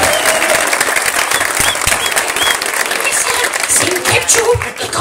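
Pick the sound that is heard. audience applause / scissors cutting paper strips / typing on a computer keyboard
audience applause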